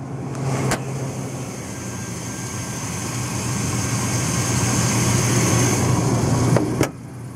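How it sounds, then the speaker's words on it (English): The V6 engine of a 2003 Chevrolet Silverado pickup idles steadily with a continuous low hum and a faint whine. A couple of sharp clicks break in near the start and end. No one talks. "You can kind of hear the engine sound too."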